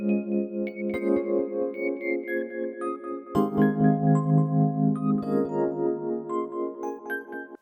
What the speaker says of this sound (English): I started out with Lounge Lizard, and I'm using this preset here, Inspiration Custom Electric Pianos